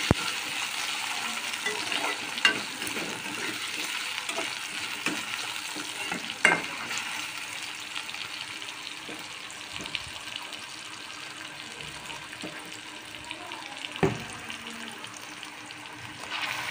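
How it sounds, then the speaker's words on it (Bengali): Potatoes fry in a pan with a soft, steady sizzle and occasional stirring clicks and scrapes, close and moderately quiet, no talk. "আলু আর পটলটাকে ভালো করে আগে অল্প করে ভেজে নিতে হবে"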